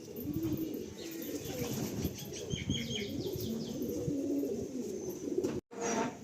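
Green-eyed female pigeon in a loft, soft coos and flutters amid continuous bird chatter and faint wing flapping, with a brief dropout near the end; fairly close, no talk.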